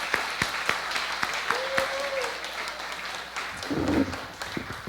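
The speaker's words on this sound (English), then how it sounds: "Let's give him a round of applause" Congregation applause at a church pastoral installation ceremony greeting the senior pastor, a steady wash of clapping from a full room with scattered sharper claps and some voices mixed in.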